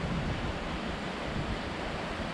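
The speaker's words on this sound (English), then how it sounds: "Down here there's still water flowing right next to us." Water flowing in a mountain stream near Mount Clay in the Great Gulf below Mount Washington, a steady close rushing wash filling the whole stretch with no voices over it.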